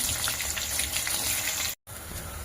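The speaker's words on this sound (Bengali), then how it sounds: "এইভাবে পেঁয়াজটাকে লাল লাল করে ভেজে নেব।" Chopped onions fry in ghee with whole garam masala and bay leaves, giving a steady, dense sizzle that cuts out briefly near the end before resuming.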